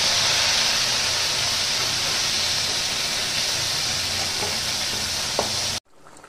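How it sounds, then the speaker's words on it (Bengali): Bitter gourd fries in hot oil with a strong, even sizzle and hiss that runs steadily, then cuts off abruptly near the end, leaving near silence. "উচ্ছেটাকে এখন ভালো করে ভেজে নেব।"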